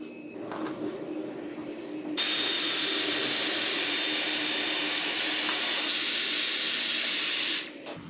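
Hairspray sprayed onto freshly curled hair, one long loud continuous hiss lasting several seconds, close up, with a softer blower hum before and after.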